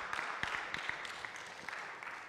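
Church congregation clapping hands together, a scattered, fairly quiet patter of individual claps with a few sharper slaps standing out, no voices over it.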